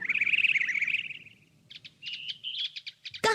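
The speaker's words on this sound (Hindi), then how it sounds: "चिड़िया दिख गई।" Small birds chirp in a cartoon scene, a bright trilling call up front followed by quick bursts of short tweets and twitters, close and clear with no speech over them.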